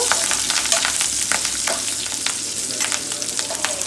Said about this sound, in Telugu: ఎండుమిరపకాయలు, జీలకర్ర, ఆవాలు, కొంచెం కరివేపాకు, ఇవన్నీ వేసేసుకోవాలి ఆయిల్లో